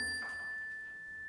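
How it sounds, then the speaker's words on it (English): A bell struck once during a worship service, giving a clear, pure ding that rings on and slowly fades. It is faint and alone in a quiet room, with no talk. "So I'm going to ding the bell."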